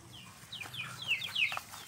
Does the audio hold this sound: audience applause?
no